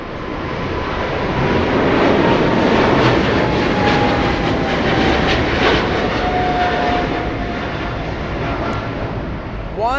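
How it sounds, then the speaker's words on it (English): A Boeing 777 jet takes off at LAX, bound for Shanghai, its engines a loud, sustained roar that swells and then slowly fades as it climbs away, with a steady rumble filling the whole stretch. "777 leaving in front of the LA Flights cameras"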